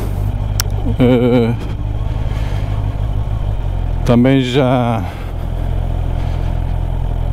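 A 2024 Honda CB650R with E-Clutch revs up and pulls away, two rising engine surges over the rumble of idling and wind, with a rider speaking briefly.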